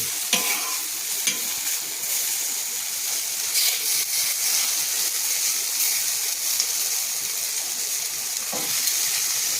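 Stuffed vegetables frying in a single drop of oil in a pan for a masala tandoori dish, giving a steady close hiss and sizzle with occasional stirring scrapes throughout, no talking.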